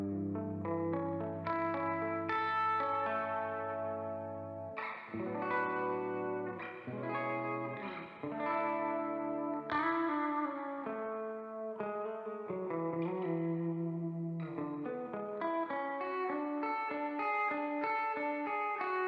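A PRS SE Paul's Guitar played through its bridge pickup with the coil tap off, heard as a sequence of sustained chords and arpeggiated notes with chorus and echo effects, rich and ringing, alone with no talk.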